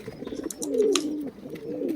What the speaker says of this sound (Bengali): একটা মহীশূর কবুতর